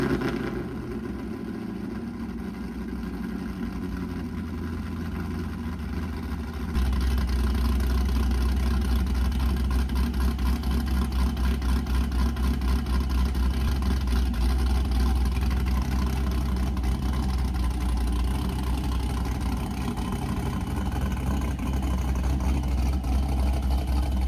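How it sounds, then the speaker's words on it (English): A car engine cold-starts partway through, jumping from faint background into a loud, deep, steady idle with a fast throbbing pulse that carries on evenly, close by and without talk. "let's just take a second to appreciate this cold start"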